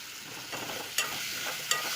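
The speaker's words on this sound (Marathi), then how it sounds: "थोडीशी परतली म्हणजे तो कांदा चांगल्या प्रकारे मिक्स झाला पाहिजे भेंडीमध्ये" Okra and onion are sautéed in a pan, a soft steady sizzle with a couple of sharp utensil clicks against the pan, fairly quiet and close with no voices.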